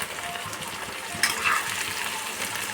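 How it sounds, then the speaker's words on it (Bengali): Onion fries in a pan with chopped tomatoes and green chilies for a fish dish, a steady close sizzle with a brief louder hiss and stirring scrape partway through. "পেঁয়াজটা কিন্তু আমি একদম কড়া করে ভাজবো না, হালকা কাঁচা গন্ধ চলে গেলেই আমি কেটে রাখা টমেটো আর কাঁচা লঙ্কা দিয়ে"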